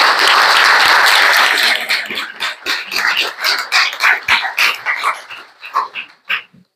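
Applause from an audience at a talk on Islamism and Europe: dense clapping at first that breaks into scattered, separate claps and fades out over several seconds.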